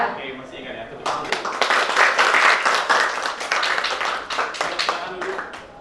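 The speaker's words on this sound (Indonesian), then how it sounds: "Tepuk tangan" A classroom of students claps on cue for their teacher, a burst of quick, loud, slightly uneven hand claps lasting about five seconds after a short quiet start, with a few voices audible at the edges.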